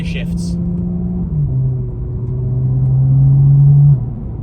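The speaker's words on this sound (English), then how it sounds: "Just listen to these DCT gear shifts." BMW M2 with the N55 engine and DCT gearbox holding a steady low drone, with a distinct gear shift near 1.3 seconds and a rise in revs before another drop around 4 seconds, fairly loud and close.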